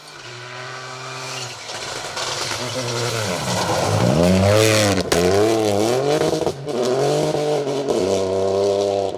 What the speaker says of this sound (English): They sound amazing, those things, don't they? Like a proper Group A car.